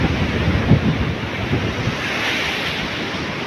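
Ocean waves at high tide near Sulangan lighthouse crash and surge loudly, with a steady roar of surf and wind buffeting the microphone.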